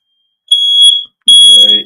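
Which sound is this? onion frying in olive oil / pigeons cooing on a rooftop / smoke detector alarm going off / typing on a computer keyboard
smoke detector alarm going off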